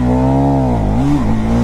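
A motorcycle engine revs hard up to its rev limiter around 7000 RPM, with a loud, steady buzzing tone that dips briefly and climbs again as the limiter cuts power, very close and alone.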